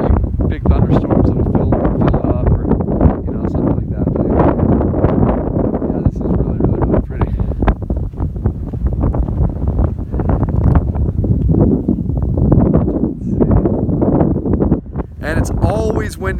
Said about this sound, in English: it is really windy, but it's always windy like this over here